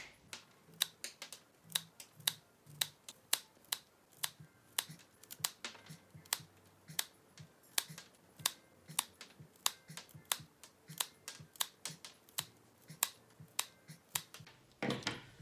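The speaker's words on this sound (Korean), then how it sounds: "이렇게 일정하게 잘라주신 후에 이 끝을 다 사선으로 이렇게 다 잘라주세요" Mini rose stems being cut diagonally with scissors for a bouquet, sharp crisp snips repeating at a steady rhythm for the whole stretch, close and clear with no talk.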